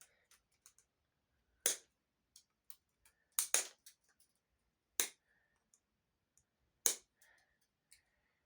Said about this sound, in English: I guess I'll cut off pieces of the board.